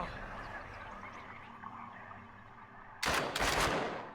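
A burst of video game gunfire: two loud, sharp volleys of shots erupt near the end after a stretch of quieter game ambience.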